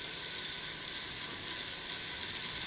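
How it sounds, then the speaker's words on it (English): A pepper mill grinds fresh pepper into a pot of tomato rice soup, making a steady gritty, ratcheting hiss that stays close and constant for a few seconds. "And some fresh ground pepper."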